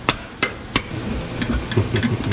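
A screwdriver wedged under an intake manifold on an old truck is struck with a hammer, three sharp metallic blows in quick succession followed by softer knocks and scraping as it works loose.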